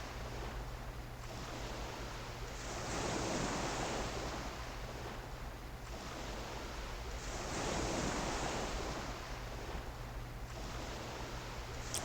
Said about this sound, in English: Nice and relaxing with the sound of the waves just kind of crashing up on the